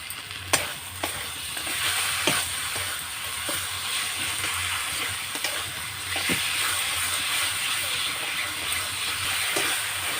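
Spice masala for Bengali-style khichuri frying and being stirred in a karahi, a steady close sizzle with intermittent scraping strokes of a spoon throughout.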